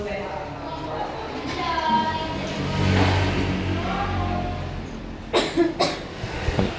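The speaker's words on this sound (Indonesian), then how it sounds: "Ada yang batuk, siapa batuk itu?" A few sharp coughs near the end, following a stretch of background classroom noise with people talking during a teaching practice session.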